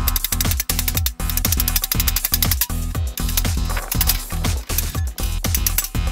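Hammer blows on metal while forging a battle scythe, rapid and steady, about two strikes per second, each a bright ringing clang, close and loud with continuous shop noise underneath.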